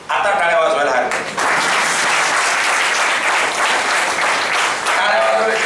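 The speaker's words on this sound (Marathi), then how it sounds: "आता टाळ्या वाजवायला हरकत." A lecture-hall audience at a law college talk bursts into sustained applause, dense and loud throughout, with a brief dip after the first second as voices murmur underneath before the clapping swells again.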